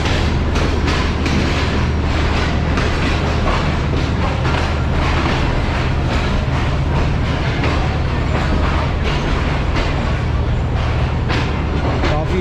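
A Pakistan Express train sits at the old Rohri railway station, giving a loud, steady broadband rumble with faint repeated clicks over a deep low hum that runs without a break.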